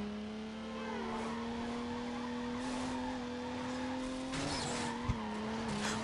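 Engine drone and tire squeal from a car drifting and skidding in Need for Speed, a steady sustained tone with pitch shifts and a brief sharp knock near the end, no voices.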